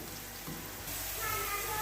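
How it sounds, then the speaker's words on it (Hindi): Garlic and green chili fry in hot oil for a daal tadka, a broad hissing sizzle that swells louder partway through, close by and without talk. "इसमें लहसुन को ऐड कर दिए, इसको हमने इसके अंदर फ्राई करना है"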